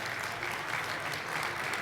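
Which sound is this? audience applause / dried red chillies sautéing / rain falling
audience applause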